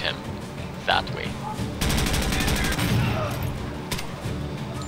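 Rapid bursts of gunfire from the Door Kickers 2 tactical game crackle over a steady background, with a sharp shot early on and sustained automatic fire through the middle.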